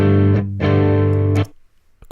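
Two distorted electric guitar chords through a VST amp rack simulator ring out in quick succession, thick and buzzy, the second cut off abruptly, followed by brief quiet with faint clicks.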